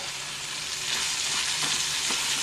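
Chopped capsicum sizzles steadily in a hot pan for a gravy, a dense, loud, continuous frying hiss with faint stirring scrapes and no talking.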